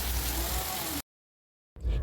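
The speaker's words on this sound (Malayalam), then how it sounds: "അവിടെയാണെങ്കിൽ നല്ല മഴ പെയ്തുകൊണ്ടിരിക്കുന്നത്" Steady rain hisses loudly for about a second, cuts to total silence, then the dense downpour returns.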